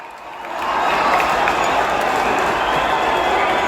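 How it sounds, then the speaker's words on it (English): Dense, steady roar of a large stadium crowd at the Gabba in Brisbane, swelling after the first half-second and holding loud and continuous with no voice standing out. "I'm just waiting for the crowd to disperse its noise."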